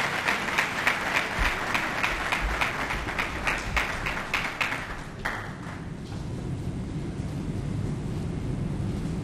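An audience at a formal conference on sexual harassment applauds after a speaker is introduced, with loud rhythmic clapping for about five seconds that then fades into a lower room murmur.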